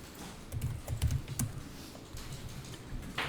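Quick keystrokes clatter on a computer keyboard in short irregular bursts, fairly close and moderately quiet, with no speech over them.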